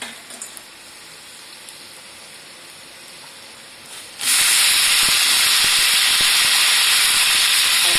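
Garlic hitting a hot pan, a sudden loud hiss and sizzle that jumps in halfway through and stays steady, after a quieter stretch of soft cooking.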